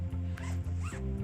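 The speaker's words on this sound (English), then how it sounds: "zip it" Zipper closing a hand-carry travel bag, two quick close pulls heard as rising rasps over a steady low hum, with a faint dog-like yelp in the mix.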